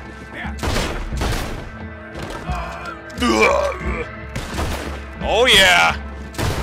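Pistol gunfire in the video game Red Dead Redemption 2 during a shootout with lawmen in Saint Denis: several loud, sharp shot bursts mixed with thuds, while players talk and shout over the top.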